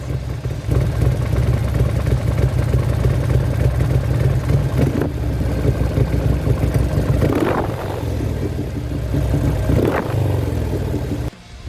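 Custom motorcycle engine fitted with an S&S Super E carburetor running steadily during carburetor tuning, a loud close continuous throb with a couple of brief throttle blips near the end.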